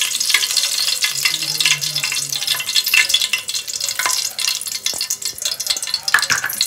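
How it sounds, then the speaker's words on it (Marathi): Curry leaves crackle and sizzle in hot oil for a tempering in a Kokani chicken curry, with a bright spitting hiss and sharp pops up close, plus the scrape of stirring. "कढीपत्ता घातलाय."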